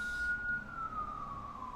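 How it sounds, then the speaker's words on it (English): A distant ambulance siren wails faintly with a slowly falling tone, heard far off beneath low background hum in an indoor room. "Ambulance."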